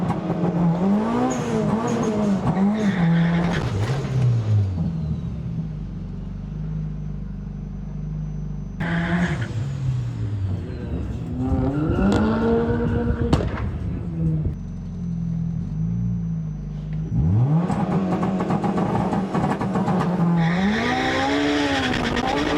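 A 600 BHP Honda Civic with a B18 engine launches down a drag strip, the engine revving hard and climbing through gears with rising pitch, loud and close, in several surges with brief lifts between.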